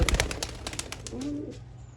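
Pigeons of an old-line breed coo softly at a bird sale in Bangalore, with a short low warble rising briefly over faint background bustle and clatter.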